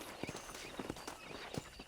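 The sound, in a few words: horses clip-clopping in the video game Red Dead Redemption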